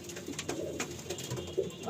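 Tournament-quality pigeons coo inside a dusty loft, soft low throaty calls overlapping in short irregular bursts at moderate distance, with no talk.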